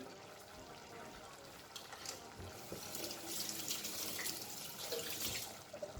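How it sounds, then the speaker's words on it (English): Tap water runs into a kitchen sink while a spoon is rinsed during cooking, a steady faint splashing that swells louder partway through, with small clinks and no talking. "And I'll wash the spoon again."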